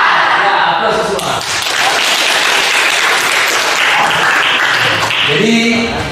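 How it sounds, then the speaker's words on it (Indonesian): A classroom of children claps and cheers in sustained, loud applause, with a voice speaking briefly near the end. "Ya, aplaus semua."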